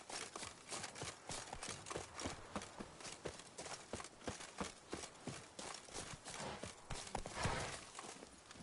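Roach the horse gallops in The Witcher video game, with a steady, rapid clip-clop of hooves striking the ground in a close, even rhythm throughout.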